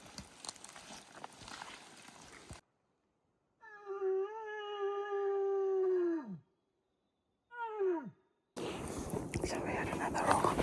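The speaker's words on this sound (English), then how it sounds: "I really had goosebumps hearing the stags roaring in the bush" Red deer stags roaring in the New Zealand bush: a long, deep, harmonic roar trailing off into a falling groan, then a second shorter descending bellow, heard clearly and fairly close between stretches of louder outdoor noise.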